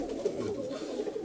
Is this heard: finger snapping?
no